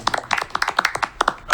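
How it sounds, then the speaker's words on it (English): A small audience claps at a Rutherford board of education meeting, a brief burst of uneven, closely spaced handclaps at moderate loudness, with no talk. "We were clapping for them, not you."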